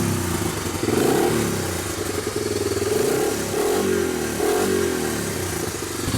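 A 1985 Honda ATC250ES three-wheeler engine runs close by after a full tune-up, rising and falling through several throttle blips over a continuous rough idle.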